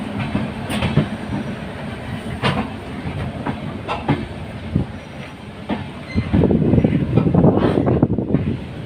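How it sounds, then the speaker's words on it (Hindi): The Janhit Express passenger train rolls into Barauni station toward platform 4, giving a steady loud rumble with rhythmic wheel clicks and occasional sharp clacks, building to a heavier rush near the end, with no talking. "और हमारी ट्रेन बरौनी के 4 नंबर प्लेटफॉर्म पर पहुंच रही है।"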